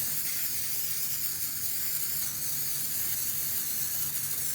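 An oil spray can hisses steadily and continuously while coating cake pans, a close, even aerosol spray lasting several seconds with no voices.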